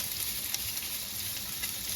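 Chicken and sausage sizzle steadily in a hot pan while being stirred, with a continuous close frying hiss and faint scrapes, no voices.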